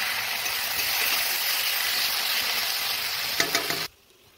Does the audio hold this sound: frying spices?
yes